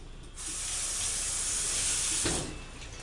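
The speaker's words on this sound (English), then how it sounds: "I'm going to wash my hands really quick." Hands being washed under a running tap: a steady, close hiss of flowing water starts suddenly, carries on for about two seconds with a brief splash, then shuts off.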